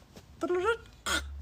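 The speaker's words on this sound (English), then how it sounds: "that's a bird called a tui," A tui, a native New Zealand bird, calls from a nearby tree outdoors: a short warbling run of rising, ringing notes, then a brief harsh, gurgling burst, fairly close and clear.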